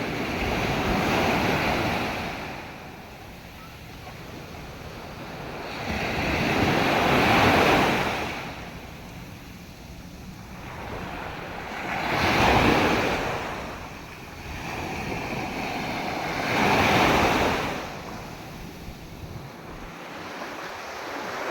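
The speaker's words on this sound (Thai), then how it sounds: "ชมไปเรื่อยๆดูคลื่น วันนี้คลื่นแรง สวยงามมาก" Strong ocean surf breaks on a sandy beach, with loud waves surging in about every five seconds and a steady wash of spray and wind between them. No voices are heard.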